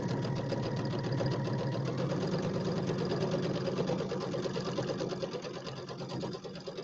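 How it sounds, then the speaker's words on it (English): A sewing machine runs steadily, stitching the seam of a St Patrick's Day settee pillow, a continuous close, even mechanical whir with fine rapid ticking that eases slightly near the end. "And finish sewing that seam shut."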